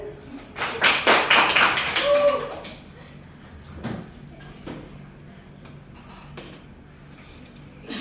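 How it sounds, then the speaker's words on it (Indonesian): Classroom applause from a Year 11 high-school class: a short, loud burst of clapping that fades after about two seconds, followed by quieter scattered taps and light background talk. "Beri tepuk tangan."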